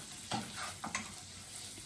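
A large onion sautés in a pan for a paneer mutter masala, a soft, low sizzle broken by a few quick scraping stirs of a spoon against the pan, close and fairly quiet.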